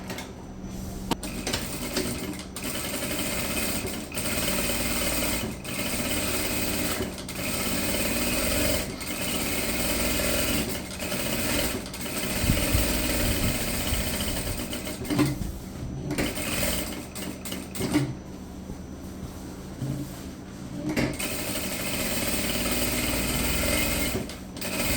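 Sewing machine running steady stitching passes along the top and bottom edges of a fabric eco bag with a divider, a continuous mechanical whir broken by brief pauses, close and moderately loud with no talk.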